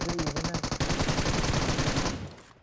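UMP submachine gun firing in a shooter video game: rapid bursts of loud, close automatic gunfire that run almost continuously, then trail off near the end, with no talk.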